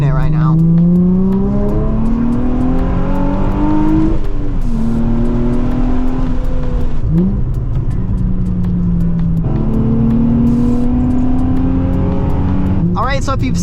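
A Nissan 350Z is driven hard on the road, heard from inside the car with the engine loud and close. Its tone climbs steadily through the gears, with clear shifts between them and repeated runs of acceleration.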